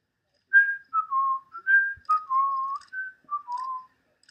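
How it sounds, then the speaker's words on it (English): A person whistles a short melodic tune, clear sliding notes in a few phrases, close and alone against near silence. "That was me whistling."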